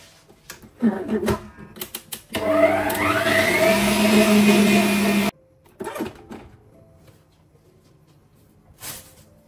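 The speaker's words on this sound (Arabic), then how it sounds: "لا غندهروها في الخلاط." A blender whirs loudly for about three seconds while whipping cream with vanilla, amid clattering kitchen sounds and brief handling noises, then stops.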